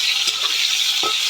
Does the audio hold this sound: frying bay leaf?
yes